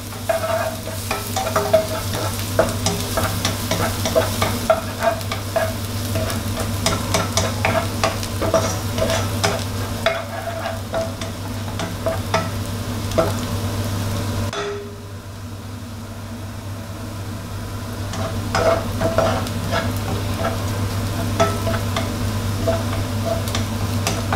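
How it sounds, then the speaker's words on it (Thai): Chopped garlic frying in hot oil in a pan for a shrimp curry-powder stir-fry, a steady close sizzle with spatula scrapes and stirring clicks, briefly quieter midway, no talking. "นี่เจียวกระเทียมให้หอมก่อนนะครับ"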